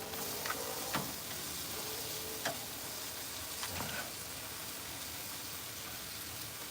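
Korean barbecue meat sizzles on a grill with a steady, quiet crackling hiss and a few faint clicks and scrapes, heard on its own without talk.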